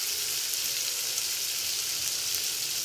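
Tomatoes and peanuts frying lightly in a pan, a dense, even hiss of sizzling oil held steadily throughout, close and alone with no talk.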